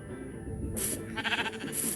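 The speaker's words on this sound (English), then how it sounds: "see if I breed this pink sheep and that, or this white sheep and that pink sheep" Sheep in the Minecraft video game bleat twice in quick succession, short bright calls over a quiet background, with no talking.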